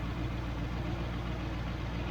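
A Triumph Stag engine fitted with Stromberg CD175 carburettors idling at 800 rpm: a steady, even low rumble with a continuous droning hum, close and unbroken, no talking.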